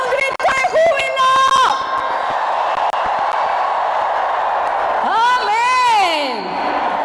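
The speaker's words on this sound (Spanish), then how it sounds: "¿Y cuántos dan un grito de júbilo?" Church congregation erupting in joyful shouts, whoops and cheers during a Spanish-language worship service, a loud burst at the start and another swell near the end, with voices throughout.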